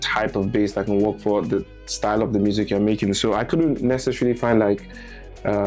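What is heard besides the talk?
No everyday noises stand out.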